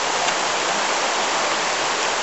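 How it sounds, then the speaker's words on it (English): A stream flows out of the limestone at the foot of Malham Cove, heard as a loud, steady rush of running water that fills the whole moment without a break. "This stream flows away from Malham Cove on an impermeable rock."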